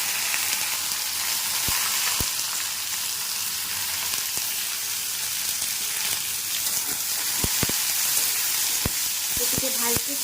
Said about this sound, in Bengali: এরপর দিচ্ছি কুচি করে রাখা পেঁয়াজ।